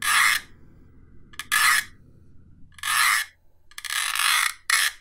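Ridged layers of a 3D printed figure rubbed close to the microphone, producing five raspy scraping strokes of varying length separated by quiet gaps.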